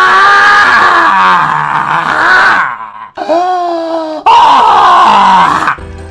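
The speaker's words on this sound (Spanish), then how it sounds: "Primero hay que hacer como si bostezaras y haces..." A voice does an exaggerated pretend yawn as a morning vocal warm-up: loud, drawn-out groaning vocal sweeps in two long bursts separated by a brief pause.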